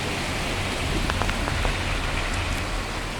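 Steady rain pours over the Nuseirat refugee camp in the central Gaza Strip, a dense even hiss with a few sharper drops, close and continuous with no voices.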